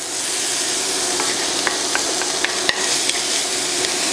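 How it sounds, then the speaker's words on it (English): Garlic sautés in a pot for a chicken pozole, giving a loud continuous sizzle broken by a few sharp clinks and scrapes of a spoon stirring against the metal. "I'm going to stir that in there and just cook it for about 30 seconds or so you can smell that gorgeous garlic"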